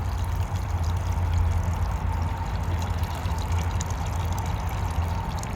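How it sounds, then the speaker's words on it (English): Wash water pours and trickles out of three tilted wool-washing containers, a steady close draining stream with no talk over it. "tilt it so that the water all runs out."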